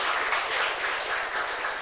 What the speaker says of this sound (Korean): 정말 멋진 샤우팅 해주셔서 따뜻한 박수 다시 한번 부탁드립니다